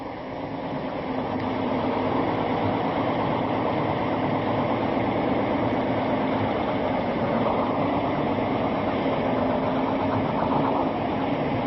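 An old motor coach bus engine, a heavy smoker, idles steadily in a museum yard in La Puente, a continuous low rumbling drone that settles in after a brief rise and stays loud and even, with no talking.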